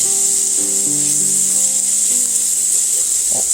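Onions frying in a pan: a loud, steady sizzling hiss, with faint tonal notes sounding beneath it early on.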